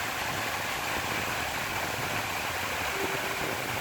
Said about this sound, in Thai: น้ำตก ใสๆไหลเย็น